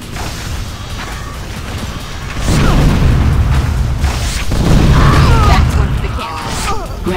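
A barricade is blown apart by an explosion in Unreal Tournament 3 Warfare on the Islander map, heard as two heavy booming blasts with rumbling low-end debris, one about two and a half seconds in and another near five seconds, over continuous game noise.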